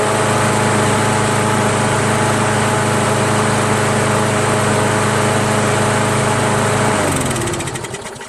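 A Craftsman mulcher lawn mower with a 6.5 HP Briggs engine runs at steady, loud, high revs after a carburetor cleaning and governor adjustment, droning evenly up close before the engine note drops and winds down at the end.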